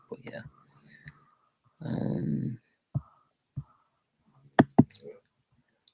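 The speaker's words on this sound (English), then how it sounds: "it's just my dog sleeping in the background" A sleeping dog in the background gives a single raspy, snore-like rumbling breath of about a second, with a few short snuffles scattered around it. Someone speaks briefly and quietly nearby.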